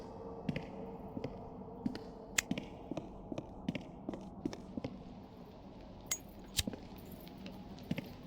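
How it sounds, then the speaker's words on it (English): Keys jingle on an old man in the horror game White Day, a run of light metallic clinks at a walking pace, fairly faint over a low hum. "I hear the old guy. His jingling of keys, so he must be nearby"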